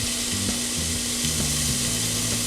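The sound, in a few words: browning a pound of ground meat in a pan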